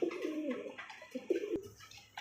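Domestic desi golla pigeons coo softly at close range in low, rolling bursts, with faint background noise.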